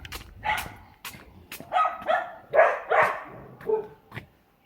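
A dog on a hiking trail near Pak Tam village in Hong Kong barks and yips in a quick series of sharp, fairly close bursts, some drawn into whiny tones, then falls quiet.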